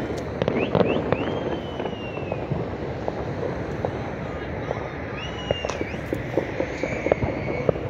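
New Year's fireworks burst over apartment blocks in Adana, with repeated sharp cracks and whistling rockets at varying distances, against wind noise and people talking nearby.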